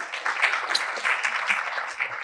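A live audience claps briefly at a Lake Oswego Reads library presentation, a short burst of scattered applause heard from a little distance.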